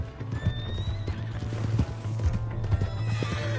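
In Red Dead Redemption 2, a horse whinnies amid steady hoof clip-clops and game background sounds, moderately loud and close.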